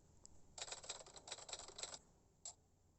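Typewriter typing as a sound effect: a quick run of crisp mechanical key strikes clattering together, then a pause and one last single click, fairly quiet and with no voices.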